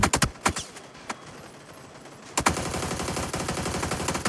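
Rapid automatic gunfire from hip firing while crouched in PUBG, loud close bursts at the start, a brief lull, then a sustained rattling stream of shots.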